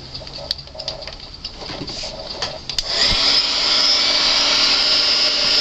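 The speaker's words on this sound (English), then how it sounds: "Let my heat gun heat up for just a second here." A heat gun warms fabric flower petals: a soft rustling and tapping gives way to a steady, loud, airy blowing roar that switches on partway through and holds evenly to the end.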